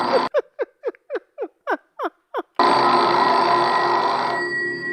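A telephone rings in a dream scene with sharp repeated electronic trills, eight quick bursts in a steady rhythm, followed by a sustained loud electronic tone that fades slightly near the end.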